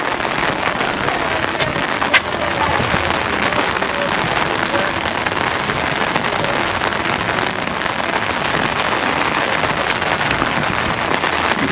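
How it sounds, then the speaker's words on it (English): Steady, dense rain pours down across the whole stretch, a constant loud hiss with scattered drops pattering close by. "now we're getting some rain."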